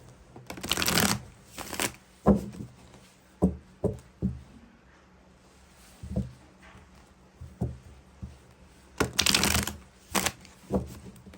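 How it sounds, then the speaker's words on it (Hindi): A deck of tarot cards is shuffled in bursts of riffling and soft slaps, with two long loud shuffles at the start and end and scattered taps and card flicks between them, close and with no talk. "तो सबसे पहले टैरोट से ही आपके लिए कार्ड्स निकालते हैं"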